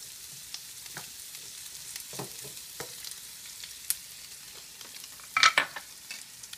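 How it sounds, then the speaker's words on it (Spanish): Chopped onion for hot dogs cooks quietly in a pan with garlic, giving a faint, steady sizzle broken by soft scrapes and clicks of stirring, with a brief louder clatter near the end. "Y vamos a dejar que la cebolla cocine."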